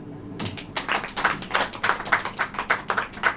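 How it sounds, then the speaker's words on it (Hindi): A church congregation claps hands in a steady, rhythmic beat at about three claps per second, fairly close and loud, with no talking over it. "ताली बजाइए।"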